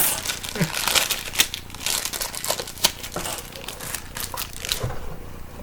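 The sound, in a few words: plastic packaging crinkling during unboxing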